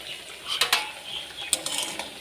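Deep-red fried mankachu (giant taro) fritters being lifted from a pan of oil, with soft sizzling beneath several close metallic clinks and scrapes of a utensil against the pan.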